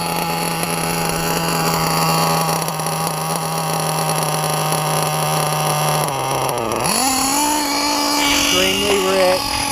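A Picco Boost .28 nitro engine runs at quarter throttle during break-in, tuned extremely rich: a loud, steady high-pitched buzzing drone close by that dips and then rises in pitch toward the end.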